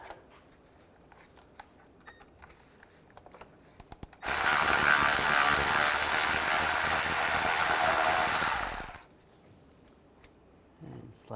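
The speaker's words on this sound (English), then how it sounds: "Use a 13mm socket." A ratchet drives a 13mm socket to remove a bolt during a clutch replacement on a 2005–2010 Chevrolet Cobalt. A loud, dense, continuous clicking whir lasts about five seconds, with quiet handling noises before and after.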